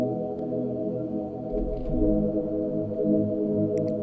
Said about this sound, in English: I'm gonna start off this beat right here using this nice sound called Long Mel, and it's inside Alchemy. It's already a stock sound inside Logicpro